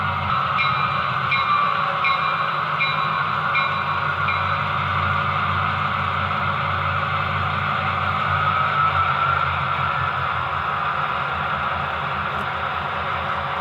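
A BLI F-7 model train locomotive runs at speed step 1 of 128 on an NCE Power Cab 2 amp, giving a steady close motor whir and hum with faint rhythmic ticking of wheels on track throughout.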